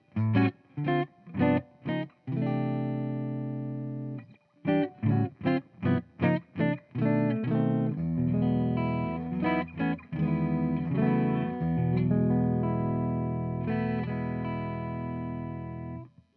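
Warm clean electric guitar, a PRS 25th Anniversary Wildwood 24 on its neck pickup, plays alone, short choppy chords at first, then fuller sustained strums with a deeper, rounder tone.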